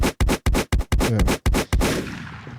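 A soundboard gunshot effect fires as a rapid string of about eight loud, sharp blasts. The final blast trails off into a fading echo.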